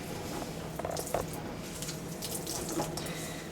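Water squeezed from cauliflower for pizza crust trickles and splashes in short bursts, a close, fairly quiet pouring sound with small drips and squishy wet noises, no talking.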